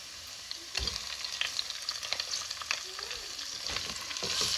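Fish pieces frying in a pan with garlic, a steady crackling sizzle with stirring clinks throughout, close and alone with no talk.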